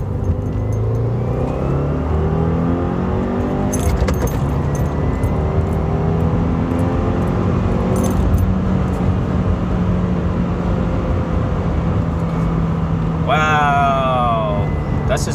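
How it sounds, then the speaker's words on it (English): A 2017 Subaru WRX with a Cobb stage 1 map pulls hard through second gear and shifts into third, its engine drone rising steadily in pitch, loud and continuous, with a brief sweep near the end. "that's just going from second to third gear"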